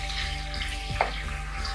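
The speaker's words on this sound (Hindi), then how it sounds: "अब इसको जरा फ्राई कर लें।" Garlic and ginger fry in a pot with a steady low sizzle and hum, close and continuous, with one brief stir-like scrape partway through.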